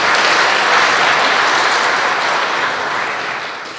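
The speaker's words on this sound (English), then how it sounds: "Let's give her a celebratory clap." A university audience in Nairobi claps in celebration, a dense, steady burst of applause that holds strong and then fades slightly over a few seconds, with no talking over it.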